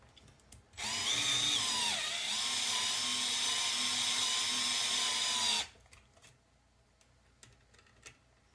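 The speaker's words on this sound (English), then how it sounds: "get my screwdriver, and tighten this brace down." An electric screwdriver whines steadily for about five seconds while tightening a brace inside a compact induction heater case. A few light clicks and handling taps follow, with no talk.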